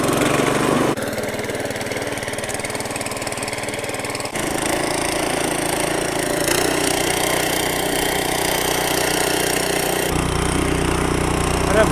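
A pull-started power weeder engine runs steadily, a loud close-up buzzing drone that shifts in pitch a few times as the throttle changes. No one speaks over it.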